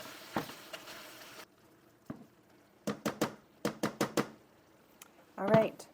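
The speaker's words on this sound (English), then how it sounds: "Some pieces are starting to brown. Let's start breaking it up." Meat browning in a pan while taco filling is cooked at home, broken up with a utensil: several short, crisp scraping knocks in a quick cluster, with a bit of sizzle underneath and a voice talking at the start and the end.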